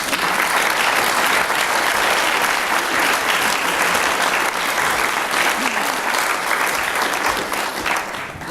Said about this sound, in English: So round of applause to the audience.